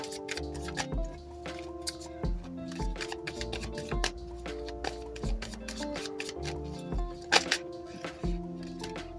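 Tarot cards shuffled and drawn from a deck, with soft riffling and flicking at close range over steady background music.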